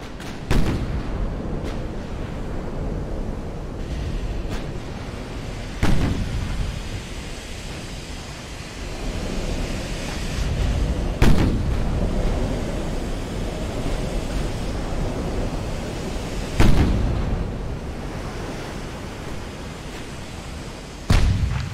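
Heavy naval guns boom in the Ultimate Admiral: Dreadnoughts warship game, several loud separate blasts spaced seconds apart over a steady sea-like rumble, with no talking.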